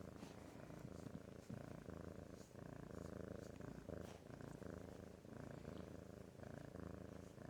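A house cat purrs softly and continuously while resting on a person, a low steady rumble with faint rhythmic pulses, close and quiet with no talking.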